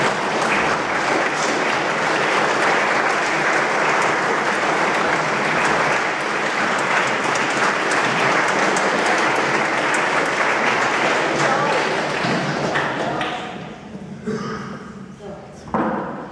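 Concert audience applause at a show, a dense sustained crowd clapping that thins and fades toward the end, with a few scattered claps and voices at the close.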